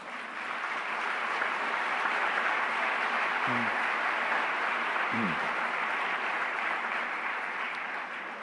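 An audience at a scientific congress applauds in a steady, even roar of clapping that carries on without letup, heard from somewhat back in the hall at moderate volume.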